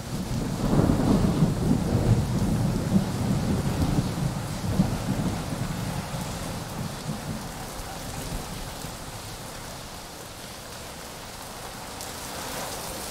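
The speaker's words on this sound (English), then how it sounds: "I put this Wonderland 6 through about 1 hour of heavy rain, followed by a few hours of light rain after" Heavy rain drumming on the fabric of an REI Wonderland 6 tent, a dense continuous patter with low rolling thunder swelling early and fading into steady rain.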